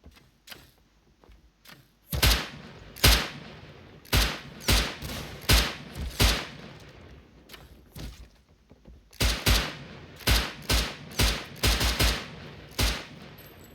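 Gunfire in the survival game Rust starts with a few sparse cracks, then becomes a steady run of sharp single shots at a brisk, fairly even pace.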